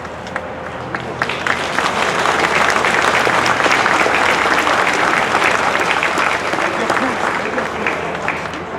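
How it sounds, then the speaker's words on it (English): Sustained loud applause from a crowd honoring three Army basic combat training graduates at a Fort Sill, Oklahoma ceremony, steady dense clapping filling the whole stretch. "please join me in a round of applause for all three of these graduates"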